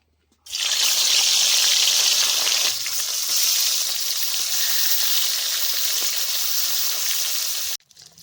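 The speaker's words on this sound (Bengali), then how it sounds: "একে একে মাছগুলো দিয়ে দিচ্ছি" Rohu fish pieces frying in hot mustard oil in a wok. A loud, hissing sizzle bursts in abruptly, holds strong and steady for about seven seconds, then cuts off suddenly.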